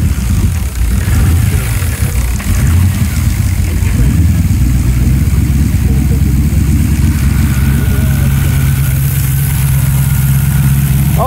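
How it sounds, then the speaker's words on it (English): A Mazda RX-7 convertible with a swapped-in LSX V8 idles at a car show, a loud, steady, close engine rumble with a slight uneven lope and a brief blip, while people chat nearby. "We're getting the engine start up on the RX-7."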